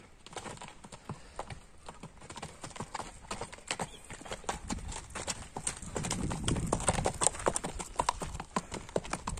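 A white horse walks on hard ground, its hooves clip-clopping in a steady close rhythm that grows slightly louder midway, with faint voices in the background.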